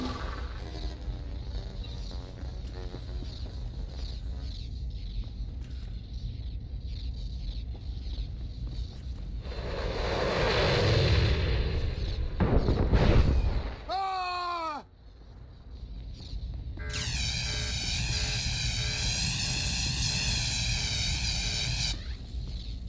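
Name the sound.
starship engine being sabotaged by droids in video game SWTOR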